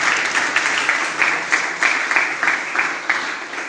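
An audience at a student union's district conference claps in a steady rhythmic pattern, regular beats every half second or so, moderately loud and close throughout the clip.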